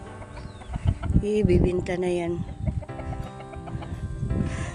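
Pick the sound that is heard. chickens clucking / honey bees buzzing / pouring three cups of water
chickens clucking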